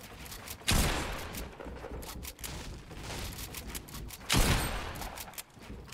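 Gunfire in Fortnite lands as two loud sharp bursts a few seconds apart, with quicker scattered shots and clatter in between.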